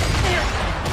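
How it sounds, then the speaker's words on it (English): Grenade explosions in the Fortnite Battle Royale game, a dense burst of loud booming blasts packed into about a second, close and full, with no voices over it. "How many grenades does that guy have?"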